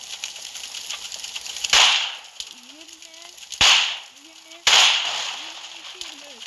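Three loud, spaced gunshots from a Groza rifle firing at a car in a video game, each a sharp crack with a short decaying tail over quieter game background.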